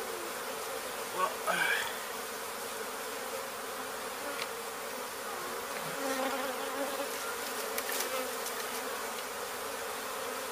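A honey bee swarm holding three queens, in Weslaco, Texas, gives a continuous close buzzing hum with a few brief louder swells and clicks near the start and middle, and no talking.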